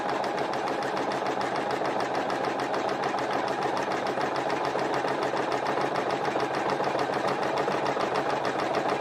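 Sewing machine stitching tight satin stitches, a fast, steady mechanical whirr with even rapid needle ticks running continuously at close range, no voices.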